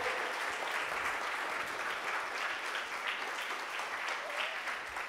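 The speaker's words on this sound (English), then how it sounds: "give them a big applause" Audience applause for a team of hackers at a hacking conference, a steady, dense wash of many hands clapping that fills the hall for several seconds without letting up.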